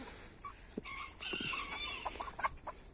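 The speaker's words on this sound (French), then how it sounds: "Donc très beau coq." A young rooster clucks a few times, then gives a thin, unpracticed crow of about a second, close and clear, with other fowl faintly around and no talking.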